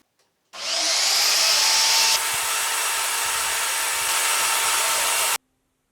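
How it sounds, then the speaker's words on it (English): A bandsaw cuts through a joystick handle, a steady loud whirring hiss that starts abruptly, runs for about five seconds with a slight drop in pitch partway, then stops cleanly. "let's go to the bandsaw"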